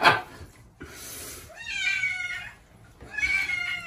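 A hairless sphynx cat meows repeatedly while being bathed, giving several drawn-out, strained calls separated by short pauses, close and fairly loud over faint splashing background.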